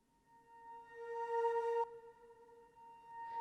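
Reversed woodwinds play alone in a song outro, steady sustained tones with breathy swells that build and then cut off abruptly, quiet and close.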